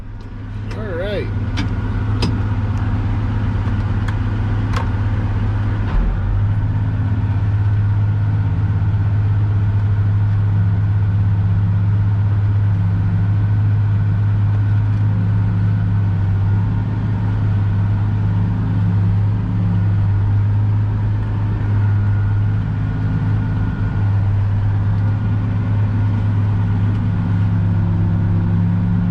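A Case IH tractor engine idles with a steady, deep, low drone throughout, fairly loud and close, accompanied by a few clanks near the start and someone talking over it.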